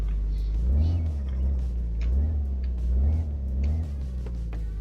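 A car being driven onto a trailer in the My Garage video game: a deep, close engine rumble that rises and falls in several rhythmic revs, with no talking.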